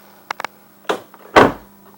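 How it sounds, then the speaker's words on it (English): The door of a C5 Corvette Z06 is opened and shut, a few light latch clicks followed by a firm, close thud of the door closing. "What you have to do is open the door and shut it"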